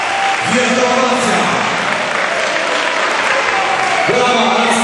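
A crowd applauds steadily at a 2004 Polish national strongman competition in Łódź, the broad clapping continuous and loud throughout, with a faint voice over the public address briefly audible underneath.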